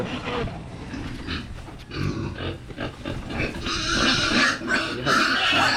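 Pigs grunting and oinking steadily at feeding time on a farm with breeding sows, a dense, close chorus of overlapping grunts with rustling underneath and no talk.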